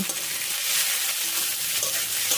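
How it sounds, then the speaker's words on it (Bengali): Chopped onions fry in hot oil with a steady, bright, hissing sizzle that stays close and even throughout, with no voices over it. "দুটো মিডিয়াম সাইজের পেঁয়াজ কুচি পেঁয়াজগুলো এখন ভালো করে ভেজে নেব"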